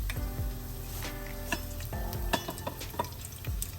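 Fennel, cinnamon and pepper sauté in a pan for a chickpea curry, giving a soft, fairly quiet sizzle punctuated by light ticking taps and stirring clicks.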